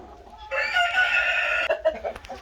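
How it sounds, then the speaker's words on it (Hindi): A flock of splash Australorp chickens clucks and crows close by, the calls overlapping in a busy stretch before breaking into a few scattered squawks, with no talking. "ये माशाल्लाह जी हमारा स्प्लैश एस्ट्रोलॉप का फ्लॉक है।"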